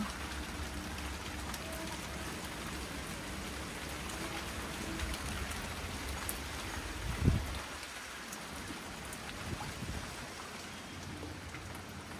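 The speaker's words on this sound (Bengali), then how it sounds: "বৃষ্টি হচ্ছে, প্রচণ্ড বৃষ্টি হচ্ছে এখন এখানে।" Heavy rain falls steadily in a garden after a storm, a dense, even hiss with scattered nearby drips and splashes, and a brief louder thump partway through.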